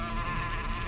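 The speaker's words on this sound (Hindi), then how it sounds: "और मधुमक्खी के छत्ते को छेड़ना" Steady, dense insect buzzing from bees swarming around a disturbed beehive, continuous and fairly loud throughout with no voices over it.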